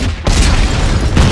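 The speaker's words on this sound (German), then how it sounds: "Granate!" A grenade goes off in Dead Space 3: a loud, dense, sustained booming roar filling the whole moment, with a brief dip and then a renewed burst near the end.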